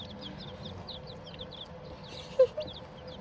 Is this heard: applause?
no